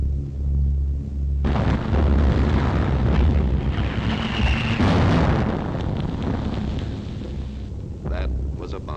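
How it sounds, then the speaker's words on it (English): A wartime bomb explodes in London, a sudden loud boom that swells into a long rumbling roar and then slowly fades into debris and crackle. "That was a bomb."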